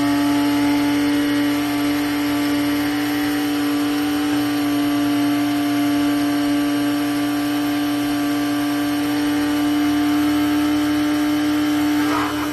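A Cuisinart DCG-12BC silver blade coffee grinder grinding coffee beans, a steady, loud motor whine that runs without a break throughout, with no one talking.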